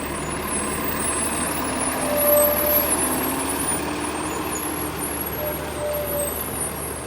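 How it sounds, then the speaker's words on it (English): A bus rolls past outdoors in mountain surroundings, a broad steady engine and road rumble that swells slightly midway then holds, with a faint high whine and no speech over it. "here's a bus going by"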